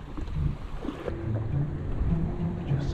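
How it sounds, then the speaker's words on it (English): Ocean waves slosh and churn steadily around a Sea-Doo FishPro watercraft out at sea, a continuous rough water wash close by with wind noise and no talking. "I don't know about fishing from here on these crazy waves."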